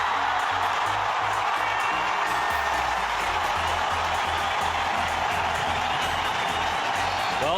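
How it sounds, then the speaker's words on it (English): Cricket stadium crowd during an India versus Australia match, a dense continuous roar of cheering and clapping that stays loud and unbroken across the whole stretch. "Well, that's got the crowd involved."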